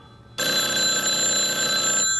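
A telephone rings with one sustained, bright electronic tone that starts abruptly, holds steady for almost two seconds, then cuts off.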